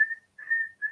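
A voice imitates the whistling sound a turtle makes through its nostrils: three steady, clear whistles close to the mic, the first short, then a longer middle one, then a brief final whistle.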